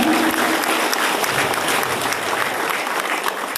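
Sustained crowd applause at a regional assembly of rural patrol groups in San Martín, a steady dense clapping throughout with a faint voice near the start.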